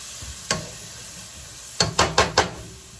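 Spoon scrapes and taps against a pan while oregano and seasonings are stirred into curry chicken with potatoes and broccoli: one knock, then a quick run of four close strokes over a steady faint hiss.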